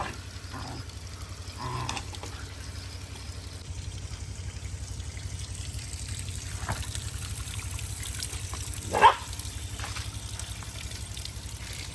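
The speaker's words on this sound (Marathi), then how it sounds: "याच्या खाली असा नैसर्गिकरित्या पाणी येतो हा बाराही महिने चालूच असतो" A natural spring-fed stream trickling steadily below a rock, a faint continuous gurgle of water with a few brief knocks and rustles nearby.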